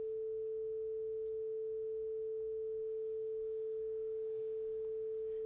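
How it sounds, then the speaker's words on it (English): A steady, pure 440 Hz sine tone holds at one pitch throughout, clean and unchanging over faint low background hiss. "Next, I'm going to start with 440 hertz."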